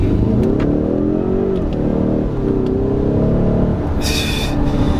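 A 2018 Ford Mustang EcoBoost with the performance pack pulls away in first gear from a rolling start, its engine rising in a loud, steady rev with pitch sweeps as it accelerates, with no talking over it.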